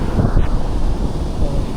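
Strong ocean waves and gusting wind roar at Beata Beach in Sta. Magdalena, Sorsogon. The sound is loud and continuous, with heavy wind buffeting the microphone throughout.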